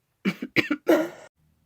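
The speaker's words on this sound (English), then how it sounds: "I was getting a massive cough attack" A burst of several harsh, close coughs in quick succession, followed by silence.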